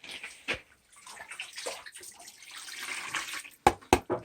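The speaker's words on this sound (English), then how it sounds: "So I'm going to get myself a little bit of water in here." Water splashing and sloshing into a gold pan for fine gold concentrate work, a short uneven pour close by, ending with two sharp knocks.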